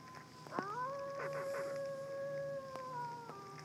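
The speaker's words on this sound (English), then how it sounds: "Y'all may hear them howling or swimming or whatnot." Wolves in the SurvivalCraft video game let out a long, wavering howl that rises and holds steady for several seconds, clear over a low background hum.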